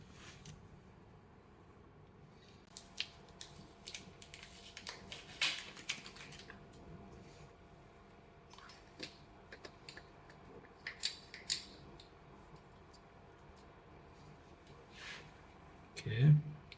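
Scissors or a blade cut the tip of a caulk tube in a few faint, sharp snips and clicks, scattered among quiet handling noises.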